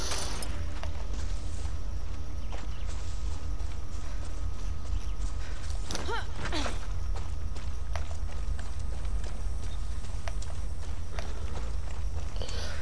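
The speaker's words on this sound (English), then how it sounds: "Ooh, yes, I could just use a horse." Horse hooves clip-clop in the video game Far Cry 6, a steady near rhythm of hoofbeats over a constant rumbling background, with a brief louder scuffle midway.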